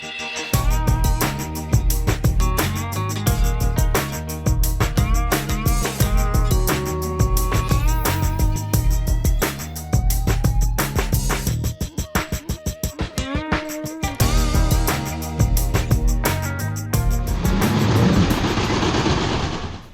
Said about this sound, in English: But this is a kid-sized wooden coaster, a Woody.